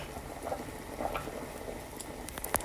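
Two small cut potatoes simmer in a pot of water, giving a faint, soft bubbling and pattering with a few small pops toward the end, quiet and close.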